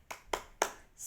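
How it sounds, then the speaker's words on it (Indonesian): A classroom doing a spirit clap, three sharp separate bursts of hand clapping in an even rhythm, fairly close and loud, with no talk over them. "tepuk semangat dulu ya"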